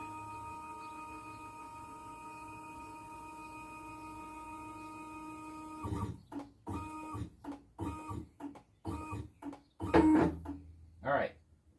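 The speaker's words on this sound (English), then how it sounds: "now let's bring the machine all the way" A Longmill Mk 2.5 CNC machine hums steadily as it travels along its axis, then stops and starts in a series of short whirring bursts with clunks, close and fairly loud.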